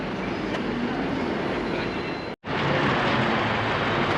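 A London Underground Victoria Line train rumbling beneath Manor House Station, heard near a subway entrance: a loud, dense, continuous roar with a brief sharp break partway through before the rumble resumes.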